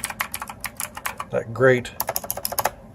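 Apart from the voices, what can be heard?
EagleTec KG040 mechanical keyboard clicking while typing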